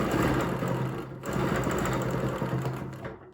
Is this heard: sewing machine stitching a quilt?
yes